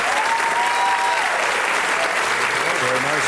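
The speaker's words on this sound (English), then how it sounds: "Nice applause there, Bob." A television darts game-show audience applauds steadily, a dense wash of clapping throughout with a voice speaking faintly over it.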